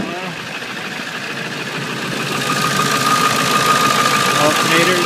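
The diesel engine of a 1999 Ford F250 Super Duty 4x4 pickup idles close by after starting, a loud, steady knocking rumble that grows slightly louder partway through.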